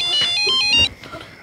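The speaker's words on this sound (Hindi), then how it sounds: "सुरेखा, कंचन का फोन" A short electronic phone ringtone plays a quick melodic pattern, close and clear, then stops as a voice begins.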